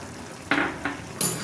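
A spoon stirs moth bean curry in a pan, three distinct scraping strokes with a soft sizzle underneath.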